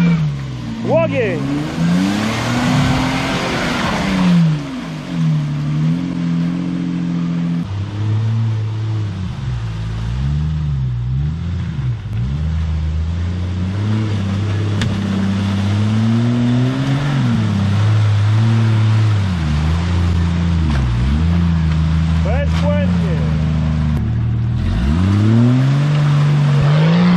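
Off-road car engine revving repeatedly during a mud test, with a Suzuki Vitara and Jeep XJ involved; loud, continuous and close, rising and falling through long pulls, with people talking over it.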